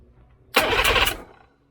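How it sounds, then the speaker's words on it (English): Yamaha 115 outboard engine cranking over during a head gasket replacement, a single loud burst of rapid, rhythmic turning lasting under a second before it stops abruptly, heard alone. "Go crank the engine over."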